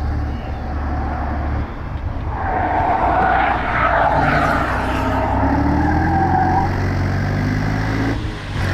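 Steady engine drone of a BMW heard from inside the cabin, the tone rising as revs climb then settling back, continuous and fairly loud.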